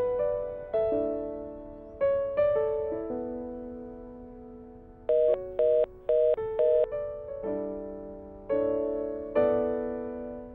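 A phone call in a mobile detective game rings unanswered, playing a synthetic melodic ringtone in repeated phrases with short stuttering bursts, clean and isolated with no talk.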